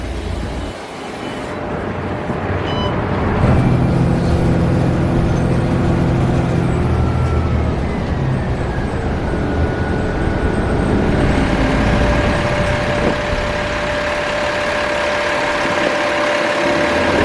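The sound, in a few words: city bus pulling in at a Van Ness BRT stop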